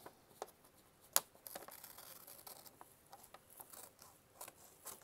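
Scissors cut through an old atlas page: sparse, faint snips and light papery rustles, with one sharper cut standing out among the quieter strokes.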